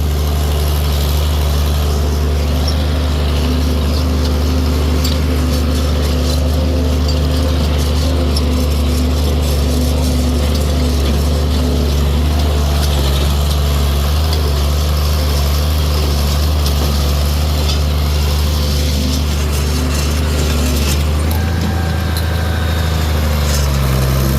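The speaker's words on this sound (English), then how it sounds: "the tractor seems to be running good" A tractor engine drones loudly and steadily nearby, a continuous rumbling hum that shifts slightly in pitch near the end.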